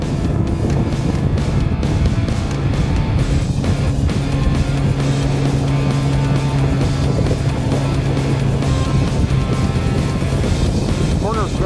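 Tracker Pro 175 TXW mod-V boat motoring across light chop: a steady outboard engine drone with constant wind and water rush, loud and continuous throughout.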